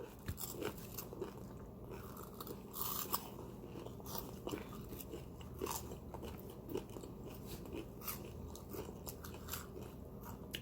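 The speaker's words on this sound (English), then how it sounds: "This is a long time to chew." Crunchy Takis filled with jalapeños and cream cheese are chewed close up, a steady run of crisp crunching and biting with sharp cracks scattered through an otherwise quiet stretch.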